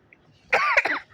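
A single short, close cough bursts out in a quiet room, with a brief second catch right after it.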